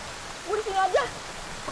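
Rain falls steadily near a village where the roads flood, making a soft, even hiss throughout, with a brief faint vocal sound in the middle.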